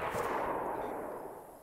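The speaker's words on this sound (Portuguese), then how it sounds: "Ela tá atirando em mim, cara." A single gunshot in the survival video game DayZ (version 0.63) bursts out loudly and then fades as a long rumbling echo, with no voices.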